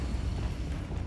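A Bombarda blasting spell goes off in Hogwarts Legacy, a dense, rumbling burst that stays loud and roiling across the whole moment with no pause.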